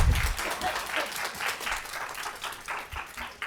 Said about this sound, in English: I can appreciate that you're happy and that you want to clap